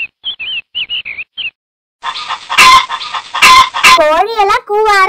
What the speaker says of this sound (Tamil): குருவி எல்லாம் சத்தம் போட ஆரம்பிச்சிடுச்சு